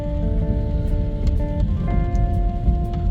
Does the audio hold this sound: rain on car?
yes